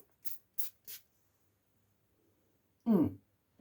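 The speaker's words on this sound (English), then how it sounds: "this one you can spray on your arm" Three short, crisp hissing bursts of mosquito repellent from a spray bottle in quick succession, close by, followed after a pause by a brief voice.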